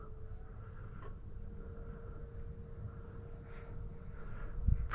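A Freewing F-4 Phantom RC jet at half throttle makes a faint, steady whine with a constant tone overhead, staying at an even level and rising slightly at the very end.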